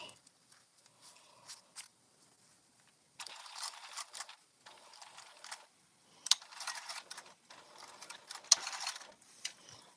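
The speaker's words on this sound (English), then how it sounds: "we sew around with an 1/8 of an inch seam allowance to top stitch" A sewing machine topstitches an eighth-inch seam around a fabric travel organizer, running in short stop-start bursts of quiet mechanical whirring and clicking separated by pauses.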